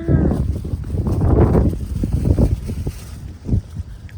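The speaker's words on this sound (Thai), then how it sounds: "โอ้ยลมเย็นมา" A cool evening wind during the summer storm season blows around a quiet house, buffeting the microphone in steady, rumbling gusts while a voice is faintly present.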